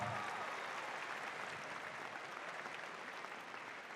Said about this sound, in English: let's give a round of applause for all of our faculty staff